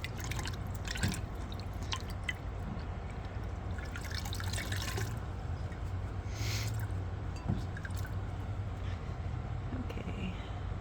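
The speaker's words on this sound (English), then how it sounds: "Just need the fleece. Okay, and rinse it." Wool fleece being rinsed in a basin of water during natural dyeing, giving steady dripping and sloshing with occasional splashes under a constant low hum, no talking.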